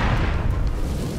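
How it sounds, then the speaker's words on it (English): A flour dust flash fire set off by an air cannon in a room gives a loud, deep roaring boom that fills the short moment with heavy low rumble. "This flash fire isn't just igniting the flour in the room, it's burning up all the oxygen, too."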